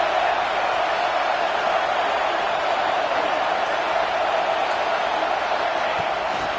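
Steady roar of a stadium crowd cheering at a college football game during a big third-down defensive stand, a broad continuous wash of noise with faint talk beneath it.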